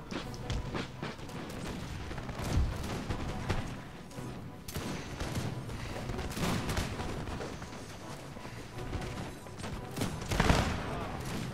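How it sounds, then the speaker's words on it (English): Musket volleys and cannon fire in an Empire: Total War battle, a continuous crackle of distant gunfire with occasional louder booms, under intermittent talk. "they're just shooting each other"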